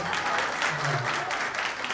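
A crowd of former classmates applauds at a 1989-batch school reunion held in 2024. The clapping is dense and sustained, with voices speaking over it.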